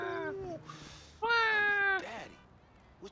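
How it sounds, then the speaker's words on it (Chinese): A cat in Grand Theft Auto V gives two close, clear meows, the second longer and higher, with faint game background between them. "猫咪要过马路被撞了。"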